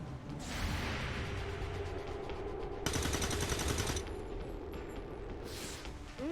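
Bursts of automatic gunfire from XCOM 2: War of the Chosen crackle in sustained volleys, loud and close, with two bright, intense stretches of rapid shots standing out against a busy battle background.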